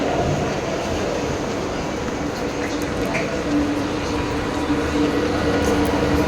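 A local train rattles along steadily, a continuous loud rumble and clatter heard from inside a carriage, with a faint murmur of voices.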